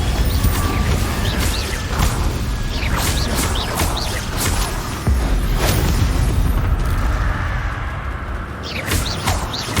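Confringo and Bombarda spell blasts in Hogwarts Legacy land as a string of loud booms and crashing impacts with whooshes, one after another, over a dense, roaring battle din.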